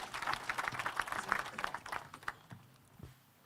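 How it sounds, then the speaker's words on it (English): Audience applause for a minister at a national dialogue event, a brief spell of moderate clapping that thins out and fades toward the end, heard from a distance. "A big round of applause for the Minister."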